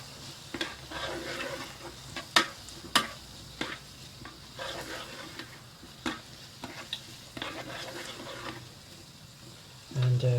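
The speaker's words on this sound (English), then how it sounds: "And continue to cook those onions." Onions fry quietly in a JML multi cooker while a utensil stirs them, making sharp clacks and scrapes against the pot in an irregular rhythm over a low sizzle. A louder clunk comes near the end.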